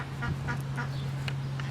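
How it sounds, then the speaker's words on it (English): Geese and ducks at a park pond give a few scattered quacks and honks, moderately close, over a steady low hum. "There's lots of geese and a few ducks."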